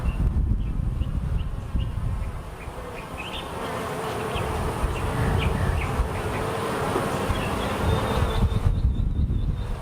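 Honeybees buzz in a dense, steady drone during a hive inspection as frames of honeycomb and brood are handled, the swarm close and loud throughout with no talking.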